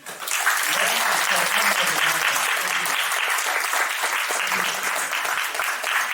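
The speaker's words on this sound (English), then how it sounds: "please join me in giving them the panelists applause" A conference audience claps for the panelists after a discussion, steady, full applause from a crowded room lasting several seconds, with a faint voice beneath.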